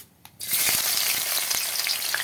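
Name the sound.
chopped onions frying in hot oil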